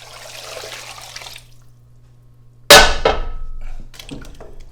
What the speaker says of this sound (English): let's cover this with water.